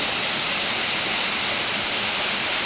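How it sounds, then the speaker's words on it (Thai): A natural waterfall at Phnom Kulen roars as a loud, dense, continuous rush of water, close and steady with no other sounds. "อันนี้เป็นน้ำตกธรรมชาติเลยนะครับ"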